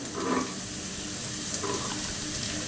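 Diced onion and small carrot cubes frying on high heat in a pan for Chinese chicken fried rice, giving a steady, dense sizzle that stays even throughout with faint crackles on top.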